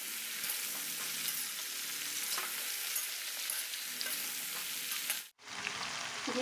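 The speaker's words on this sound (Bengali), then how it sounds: "তেলটা গরম হয়ে গেছে, এবার আমি আমগুলো ছেড়ে দেব।" Mango pieces drop into hot mustard oil in a wok and fry with a steady, even hiss and crackle. The sizzle stops for a moment near the end, then starts again.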